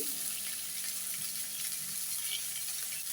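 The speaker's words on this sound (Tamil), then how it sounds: "நம்ம வெங்காயத்தை நல்லா ஃப்ரை பண்ணணும் நல்லா அந்த வெங்காயமும் பூண்டும் சேர்ந்து" Onion and garlic fry in a hot pan, giving a steady broadband sizzle that holds even and fairly loud for the whole stretch, with faint scraping of stirring underneath and no voices.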